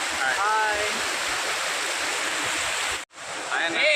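Water pours fast over a village waterfall in a constant loud rush close by. Faint whistle-like tones sound near the start, and the roar cuts out for a moment before returning.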